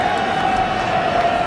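A restless crowd fills a football stadium at an AFL match between Geelong and the Sydney Swans, a steady, dense roar of many voices murmuring and calling out at a distance, with no single sound standing out.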